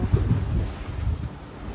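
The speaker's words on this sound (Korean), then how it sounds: "근데 파도 소리 살짝 무섭다" Ocean waves on a Maldives beach make a continuous rushing wash of surf, with wind buffeting the microphone loudly and close for under two seconds.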